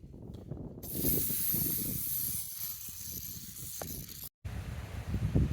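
A can of spray paint hisses in one long close burst, then a shorter one after a brief break, as a thin final coat goes onto a ZZR1400 motorcycle fuel cap, with light handling clatter around it.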